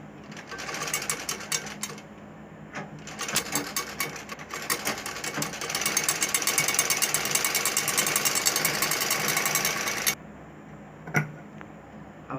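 Sewing machine running in close, steady bursts while stitching a dori loop neck design on fabric, a rapid mechanical chatter that pauses briefly, swells louder in the middle, then stops with a few faint clicks; no talking.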